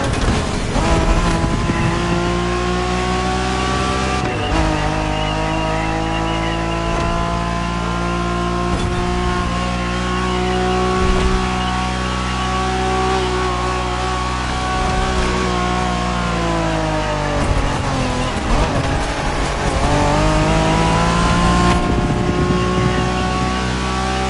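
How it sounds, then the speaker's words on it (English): Honda NSX sports car from the 1990s driven in the racing video game The Crew Motorfest, its engine holding a steady loud drone with shifting pitch and brief revving surges throughout, alone without talk. "Are you familiar with the Honda you're driving? The NSX isn't your regular street car."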